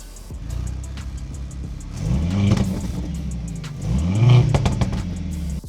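A 2025 Mercedes-AMG C63 hybrid, not a V8, revs hard twice from a steady idle, each blip rising and falling in pitch close by with no talking.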